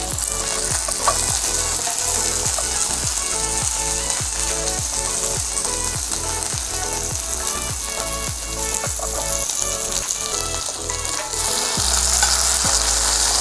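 Tomatoes fry loudly in a hot pan for sweet and sour fish, a dense constant sizzle with a rapid, regular series of ticking pops and scrapes running through it, close and alone.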